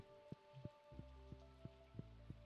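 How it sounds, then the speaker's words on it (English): Rain in a heavily modded farming video game, faint soft patter with evenly spaced small drip clicks over a quiet musical hum, no voices. "Grab some music since it's gonna be a rainy day."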